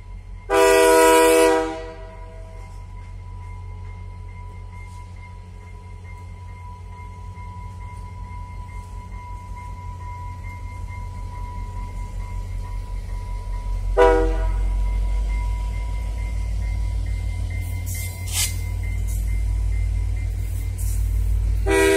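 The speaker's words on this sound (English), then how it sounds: "you'll see the train coming and we'll just give it a watch here for a second." A CN train passes near the station in Dauphin CN Park, sounding two short horn blasts at the start and later, over a steady low rumble of rolling cars that continues throughout.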